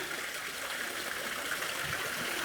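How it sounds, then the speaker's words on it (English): A waterfall spills into a rock-walled, cave-like hot springs pool, giving a steady, soft splashing rush of water that stays even throughout with no voices. "A nice waterfall they got going here too."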